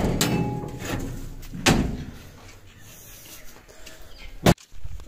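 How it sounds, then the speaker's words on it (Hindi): A door at a rural home in Pakistan is opened or closed with scattered creaks and thumps, ending in a sharp, close bang. "दरवाज़ा।"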